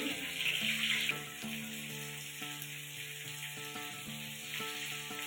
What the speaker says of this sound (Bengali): এখন আমি টমেটোটাও একসঙ্গে দিয়ে ভেজে নেব